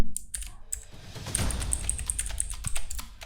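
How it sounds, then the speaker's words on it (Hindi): Rapid keystrokes of a password being typed on a computer keyboard at an admin login page, close and crisp, a steady run of clicks with no voices. "तो हमें यहाँ पे पासवर्ड टाइप कर देना है अपना एडमिन"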